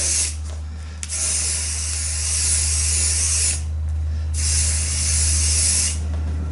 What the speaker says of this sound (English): spray a heck of a lot of mold release on here.